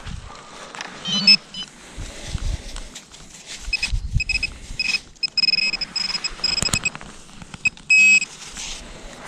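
Several short high-pitched electronic beeps from an XP X-Terra Pro metal detector sound in bursts over outdoor rustling and low thumps, steady tones repeating at intervals.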